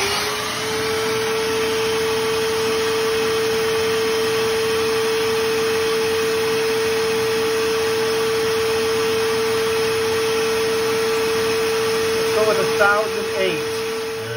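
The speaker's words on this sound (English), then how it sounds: "There's our vacuum. I'll flip it on." A vacuum cleaner runs steadily with a constant motor whine and airflow roar, loud and close, unbroken for the whole stretch.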